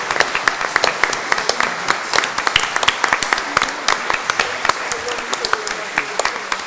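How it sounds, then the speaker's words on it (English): Scattered, uneven applause for a band at a Christmas carol service, individual sharp claps standing out from a thinner crowd of clappers that continues throughout. "I think we should give the band a round of applause"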